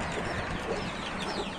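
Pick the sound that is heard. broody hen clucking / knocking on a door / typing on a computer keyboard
broody hen clucking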